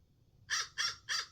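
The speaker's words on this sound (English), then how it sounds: "It's a fucking crow." A crow caws three times in an even rhythm, harsh and clear, moderately close against a quiet background with no talking.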